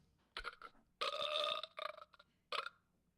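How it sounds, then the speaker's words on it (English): Cartoonish burp effect played from a small toy sound device, heard as three bursts: a short opening belch, a longer drawn-out one, then a brief closing burp, fairly loud and close with no talking. "Well, one of the sounds is a burp. I'm going to play it for you."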